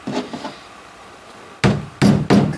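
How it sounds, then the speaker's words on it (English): A hammer strikes a boat floor patch coated in rubbery Loctite, two soft blows, a quiet pause, then three loud close thwacks in quick succession. "Maybe if I took a hammer and smacked on it"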